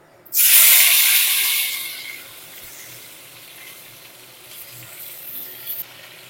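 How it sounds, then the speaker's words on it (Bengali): Sliced pointed gourd hitting hot mustard oil bursts into a loud, bright sizzle that settles into a softer, steady hiss of frying. "তেলটাও গরম হয়ে গেছে, এর মধ্যে এবার আমি পটলগুলো ভেজে নেব।"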